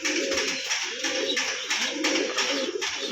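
Homing pigeons coo close by in soft, repeated throaty rolls that rise and fall in a steady rhythm, loud and clear with no talking over them.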